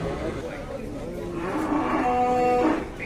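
Bulls mooing close by at Edakkara cattle market in India, a long drawn-out low call that swells louder toward the end over a busy outdoor background.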